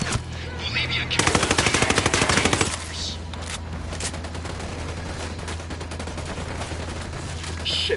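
Gunfire erupts in a Ghost Recon video game firefight, rapid automatic bursts that turn into a dense sustained volley, then fade under a continuing low rumble of battle.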